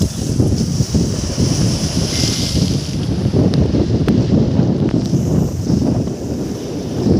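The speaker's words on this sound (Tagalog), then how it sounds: "lakas na alon na dagat" Strong sea waves and gusty wind at a shore walkway near a park, a steady loud wash of surf with wind buffeting the microphone throughout.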